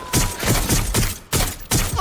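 Bursts of gunfire in the video game Watch Dogs: Legion, several loud rapid volleys of shots in quick succession with brief gaps between them.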